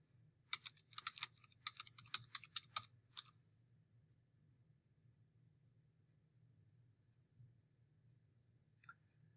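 Quick bursts of clicky keyboard typing for a few seconds, then near silence with a faint steady hum.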